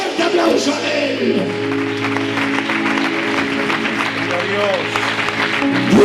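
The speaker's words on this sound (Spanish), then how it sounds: "Dale un fuerte aplauso a él" A church congregation applauds during a pastor's sermon, steady clapping running under loud sustained music and voices, with no clear break between them.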